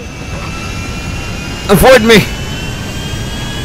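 Jet plane engines in a Grand Theft Auto mod roar up in a brief loud burst mid-clip over a steady background hum, with someone shouting over it.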